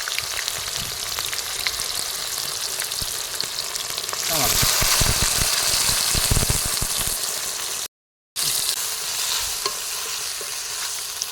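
Chillies fry in oil for a paneer curry in a continuous loud sizzle that grows denser and more spattering partway through, then settles back, broken by a brief silent gap.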